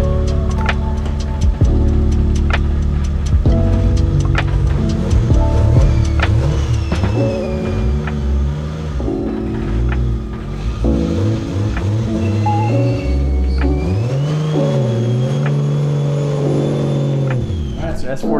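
Nissan S14 car engine fired up after a tune is loaded, idling and revving repeatedly with rising and falling pitch, loud and close, with people talking over it.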